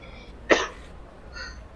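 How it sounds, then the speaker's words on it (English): One sharp cough into a built-in microphone, close and fairly quiet, followed by a fainter second one, with no talking. "I would like to activate my built-in microphone and cough a few times."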